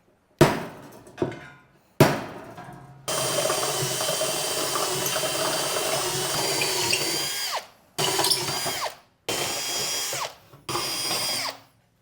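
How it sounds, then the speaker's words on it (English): A power drill bores large clearance holes in sheet metal floorboards for a Ford F150. A few short bursts lead into one long steady run, then several more short bursts, loud and close with no talking. "We're gonna drill those holes out so that they will clear these captured nuts here."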